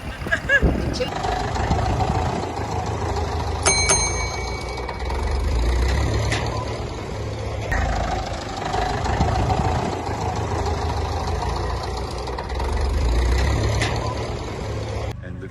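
A restored Massey Ferguson tractor of about 55 horsepower, from around 1982 or 1983, idles at an agricultural show with a low, pulsing engine rumble that swells and fades under people talking nearby.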